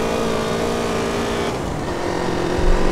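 A car drives in GTA San Andreas Multiplayer with a steady engine drone and tonal whine, loud and close, shifting slightly midway and swelling near the end.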